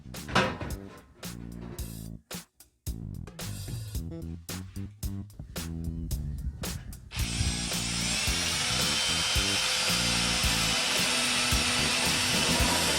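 Power drill boring a small pilot hole with a swapped bit while fitting a replacement karaoke machine, S70 to A1 upgrade; loud stop-start bursts of whirring, then a steady sustained high-pitched run, close up with no talk.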